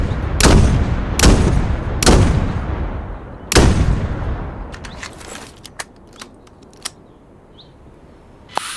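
An M82 rifle fired at targets out to 800 meters in the video game Dagger Directive: four loud, heavy shots at uneven intervals, each with a booming, decaying tail, followed by a few faint, small clicks.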